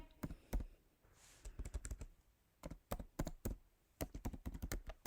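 Someone types an email address on a computer keyboard in quick, close clusters of light key clicks separated by short pauses, in a quiet room.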